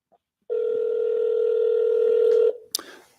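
A single sustained tone from a telephone line during an auto-dialer call runs steadily for about two seconds, then cuts off and is followed by a sharp click.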